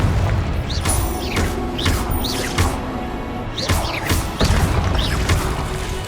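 Confringo explosive spell cast repeatedly in Hogwarts Legacy: a series of sharp blasting impacts with whooshing tails, roughly five bursts spaced about a second apart over a rumbling game background.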